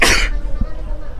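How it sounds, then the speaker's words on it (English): A single sharp sneeze bursts out loudly at the start, followed by a quiet background hum and a faint murmur. "I'm gonna sneeze."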